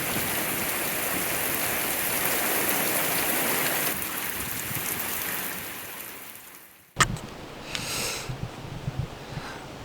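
Heavy rain pours steadily outdoors near a narrowboat mooring, a dense close hiss that fades after several seconds, followed by a sharp knock and sparse drips and rustles.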